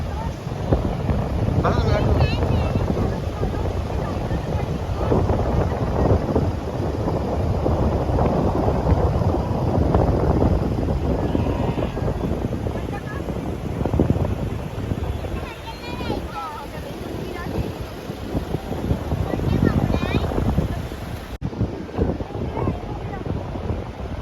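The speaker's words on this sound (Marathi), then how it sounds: "वारा पण खूप आहे" Strong wind at Dapoli on the Konkan coast buffets the microphone in continuous gusts, with water sloshing nearby and no clear voices.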